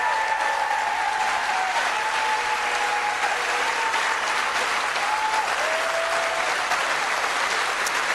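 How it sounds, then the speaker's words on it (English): An audience gives a sustained round of applause at a political rally, dense and continuous clapping filling the room, with faint whistles or cheers rising above it. "Let's give him a round of applause"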